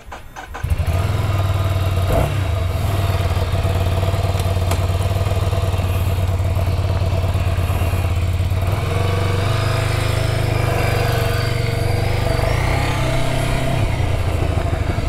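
A 2023 Ducati Scrambler motorcycle engine fires up after a brief crank and settles into a loud, close, lumpy idle with a light blip of the throttle later on.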